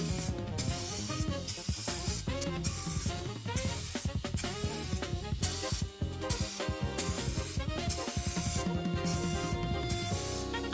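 Spray gun applying 2K clear coat to a Nintendo 64 shell hisses in repeated short bursts with brief pauses between passes, close and fairly loud.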